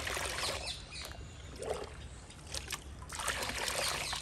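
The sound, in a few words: pouring liquid peel fertilizer into ten liters of water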